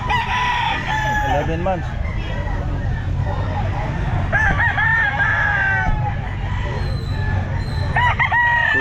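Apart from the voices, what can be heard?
Lemon Sweater gamecock crowing at a pet market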